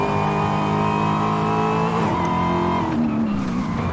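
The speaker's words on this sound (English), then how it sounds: "You can hear that supercharger very loud." A supercharged 2019 Corvette ZR1 revs hard in Forza Horizon 5, its loud engine note climbing steadily with a high supercharger whine, briefly dipping at a shift before pulling again.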